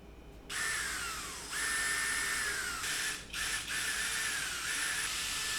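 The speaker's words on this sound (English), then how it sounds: "And then I'm gonna drill it." A high-pitched power drill with a spade bit whines steadily as it cuts into aluminum, stopping briefly a couple of times and then starting again, loud and close.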